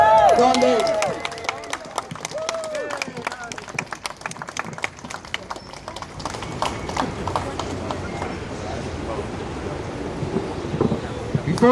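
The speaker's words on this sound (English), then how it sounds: "So if we can give a round of applause, Don Davies." After a voice speaks, a crowd at an outdoor protest rally in Ottawa breaks into a round of applause, a dense patter of hand claps that carries on under open-air background noise.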